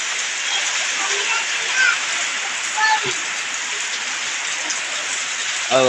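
Rainwater runs as a stream down toward a river in rural Konkan during heavy monsoon rain, a steady, full rushing wash that stays constant throughout, with faint bird calls in the background.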